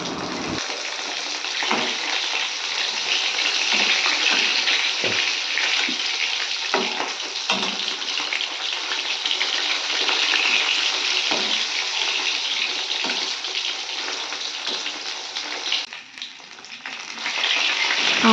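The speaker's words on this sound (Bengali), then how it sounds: "কড়ার মধ্যে দিয়ে দিয়েছি তেল আর এখানে মাছটা আমি ভাজতে দিয়ে দিয়েছি" Bata fish frying in hot oil in a kadai, Bengali home cooking: a continuous close sizzle that stays loud and even throughout, with small dips and a brief lull near the end.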